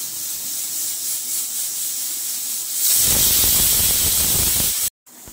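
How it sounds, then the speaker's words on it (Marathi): Pressure cooker on a medium gas flame letting off steam, a soft hiss that swells into a loud, sustained whistling blast before cutting off sharply. "मीडियम फ्लेम वरती हे ठेवले, फक्त 2 शिट्ट्या घ्यायच्या आहेत।"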